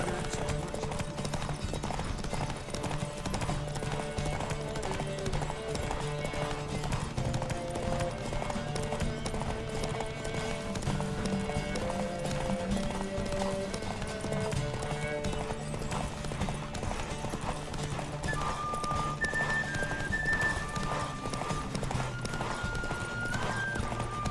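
In The Witcher 3, rapid hoofbeats of horses galloping in a race pound steadily throughout, with a low rumble underneath and a faint voice now and then.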